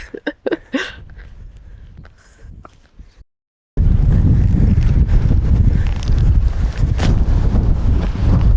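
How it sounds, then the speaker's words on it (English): Strong wind buffets the microphone in a loud, continuous roar on a Lake District fell top near Patterdale, preceded by a few seconds of scattered knocks and rustling. "So windy here."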